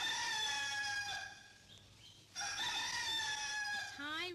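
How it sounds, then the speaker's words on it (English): Roosters crow at night in rural Thailand, two long ringing calls with a faint distant one between them and the start of another at the end. "At 2 in the morning, the roosters crowed."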